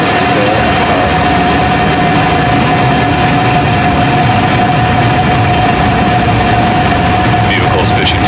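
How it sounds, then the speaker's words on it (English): A SpaceX Falcon 9 rocket ignites and lifts off, a loud, steady, broadband roar with a deep rumble that fills the whole stretch without pause. "ignition, and liftoff. Go Falcon."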